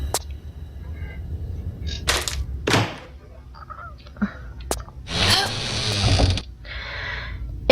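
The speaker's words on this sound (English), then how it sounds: "Use the crowbar in this on this first crate." Crowbar prying open a wooden crate in the game Tomb Raider: a run of clunky thuds and mechanical ratcheting knocks, then a longer grinding crack, all fairly close with no talk.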